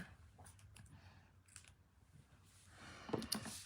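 Scissors snip through craft foam during card making, a few quiet cuts clustered near the end against a faint, hushed background.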